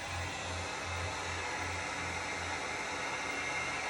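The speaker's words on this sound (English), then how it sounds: "what I'm gonna do is I'm gonna get a dryer really quick," Hair dryer blowing steadily at close range over a rustic blueprint craft project, a continuous broadband whoosh with a faint low pulsing hum underneath, no voices.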